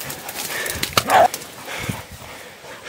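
Hunting hounds bark outdoors during a hunt, with a couple of short yelps and one louder bark clustered near the middle, close by and not far off, with no talk over them.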